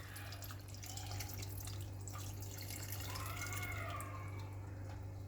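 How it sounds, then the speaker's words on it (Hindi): Half a glass of water poured into mutton in a cooking pot for biryani, a soft liquid splash and dribble over a steady low hum, fairly quiet and close. "उस ग्लास में मेजर करके मैंने हाफ ग्लास पानी इसमें डाल दिया है।"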